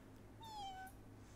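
A voice imitates a kitten with a single thin, high meow that slides downward, soft and brief.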